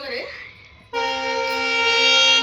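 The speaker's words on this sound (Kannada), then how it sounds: "ನೋಡಲ್ಲಿ ಟ್ರೈನ್ ಹಾತೈತಿ." A passing train sounds its horn, a loud, sustained, rich blaring tone that starts abruptly and holds for over a second and a half, after brief background voices at the start.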